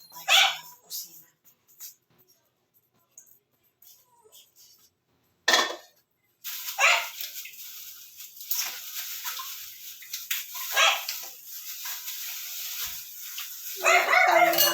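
Pet dogs bark noisily in a home, with sharp, intermittent yips and barks coming and going amid household clatter, and a person talking among them.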